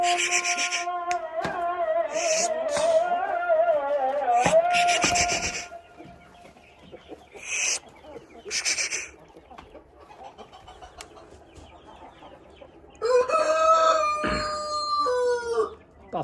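Backyard chickens, Sussex, Australorp and Brahma hens with a rooster, cluck and call in a loose, irregular series, with a rooster crowing loudly near the end over a quiet coop background.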